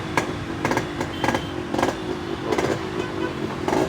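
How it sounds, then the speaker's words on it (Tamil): A Yamaha RX135 motorcycle engine running, its two-stroke idle broken by repeated short throttle blips that rise and fall in a loose rhythm, close by and fairly loud. "ஸோ RX135 இந்த வண்டி சேலுக்கு இருக்குது. இன்ஜின் சவுண்ட் கேட்டு"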